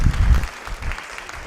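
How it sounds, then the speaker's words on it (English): Audience applause at a cooking demonstration event, a short burst of clapping from a crowd that starts fuller and fades quickly under a low murmur. "Round of applause."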